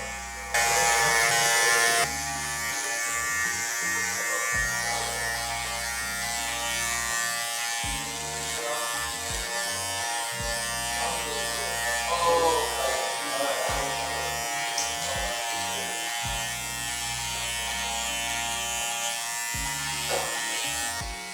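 Electric hair clippers with a number 1 guard and the lever open buzz loudly in repeated bursts as they smooth a fade on 4C hair, switching on and off between passes.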